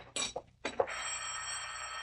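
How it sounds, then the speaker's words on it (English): An old-time radio drama telephone bell rings in two short bursts, followed by a sustained, fairly loud ringing tone. "Mr. Bailey, the phone"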